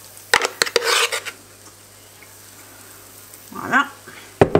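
Metal spoons clink and scrape against a bowl and waffle iron while brownie waffle batter is spooned out, a few sharp taps and scrapes with quieter pauses between.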